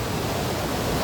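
Water flows through an irrigation channel with a close, dense, steady rushing hiss. The sound is brief, continuous and heard alone without speech.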